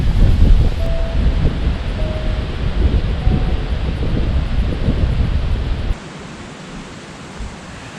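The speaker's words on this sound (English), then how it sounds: "The wind is kind of dying down, but it's still pretty rambunctious" Strong autumn night wind buffeting a campsite at Blue Mounds State Park in Luverne, Minnesota: a loud, roaring rush of gusts and microphone buffeting that suddenly drops to a softer, steadier blow near the end, with no voices.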